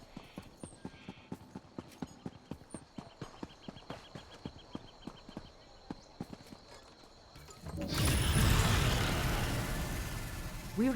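Hooves clip-clop in an even walking rhythm at video-game stables, distinct and close, before a louder broadband rush of noise takes over for the final few seconds.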